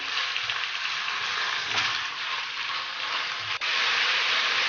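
Chicken pieces sizzling in a hot pan with ginger and garlic, a steady close frying crackle throughout with light stirring, no voices.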